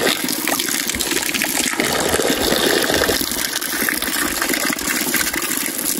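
Water gushes and splashes steadily outdoors in a village field during ox plowing and corn planting, pouring loud and continuous for several seconds with no speech.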